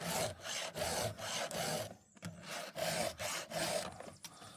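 A hand file strokes across chainsaw chain teeth, a steady run of rhythmic rasping pushes, about nine close scraping strokes with brief pauses between, loud and near with no talk.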